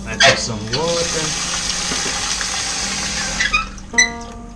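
Water runs from a kitchen tap into a pot of rice in a small kitchen, a steady rushing stream for several seconds with brief gurgles and clicks as it starts and stops.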